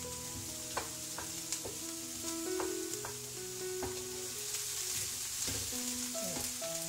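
Spring onions frying in a pan until lightly browned, a steady close sizzle with occasional clicks and clatter of stirring, alone without talk.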